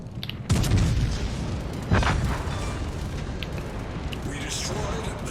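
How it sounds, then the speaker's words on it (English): Aircraft torpedoes strike the HMS Hood battleship in the naval game World of Warships Legends. Two muffled booms land early over a continuous rumbling battle din, with a voice faintly underneath. "That's aircraft torpedoes, which isn't too bad."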